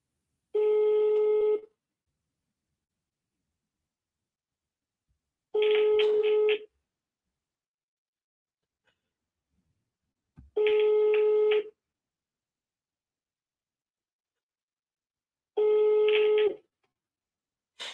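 Four separate bursts of electronic telephone tones, evenly spaced about every five seconds with silence between, heard while cold calling for commercial real estate; steady and clear with no talking.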